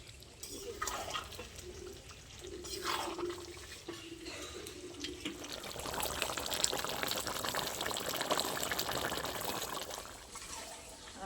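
Water pours into a pan of spiced, slow-cooked chicken kosa to make the gravy, a steady splashing gush that builds and continues for several seconds, fairly soft and close, with no talking.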